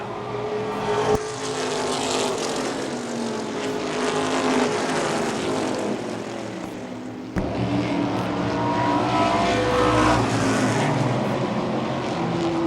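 Modified race cars circling a dirt oval in close competition, loud overlapping engine roars swelling and fading as the cars pass, with a brief drop and a sharp surge midway.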